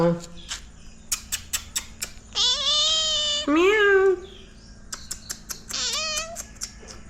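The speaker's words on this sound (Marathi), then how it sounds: "आमच्याकडे गोंडच मांजरात" A domestic cat meows several times up close, drawn-out and plaintive cries with rising and falling pitch, separated by sharp clicking and tapping noises in a quiet indoor room.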